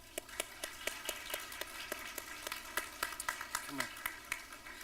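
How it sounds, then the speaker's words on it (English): A ceremony audience clapping for Abby, a steady patter of individual hand claps at moderate distance, fairly faint, with a short voice sound near the end. "I would like to take a moment to give Abby a round of applause"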